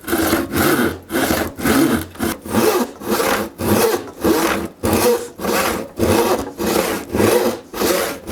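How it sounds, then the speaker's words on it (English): A handsaw cuts through wood in steady back-and-forth strokes, each a loud raspy swish followed by a brief gap, about a dozen strokes in a regular rhythm up close with no talking. "whenever you're using a handsaw, you want to point that finger because that's going to keep you on track"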